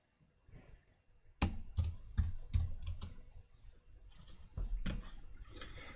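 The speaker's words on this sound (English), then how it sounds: "I'm typing and talking" Someone types on a computer keyboard during a cloud computing tutorial, producing a burst of sharp, close keystrokes in an uneven rhythm, then softer, quicker tapping, with no voice.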